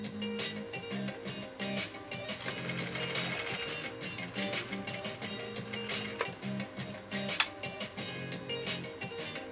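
A restored Swedish sewing machine, machine B with cam B, sews a zigzag stitch in position 5, giving a steady, moderately loud rhythmic mechanical chatter throughout with a sharp click near the end.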